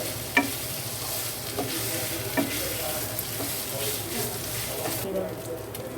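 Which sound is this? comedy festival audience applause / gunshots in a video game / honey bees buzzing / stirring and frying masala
stirring and frying masala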